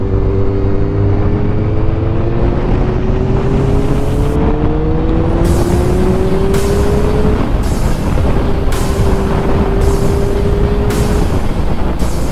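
A Kawasaki ZX6R motorcycle engine, warmed up and restored, runs loud and close with a steady idle, then rises and falls through several smooth revs, holding a sustained droning tone.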